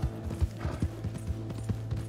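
Horse hooves clip-clopping in the Red Dead Redemption video game, a steady rhythmic trot of regular thuds with a low continuous background tone, fairly close and moderately loud.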